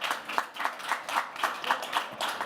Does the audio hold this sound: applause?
yes